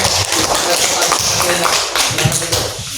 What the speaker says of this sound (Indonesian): Kasih tepuk tangan dulu untuk kelompok 1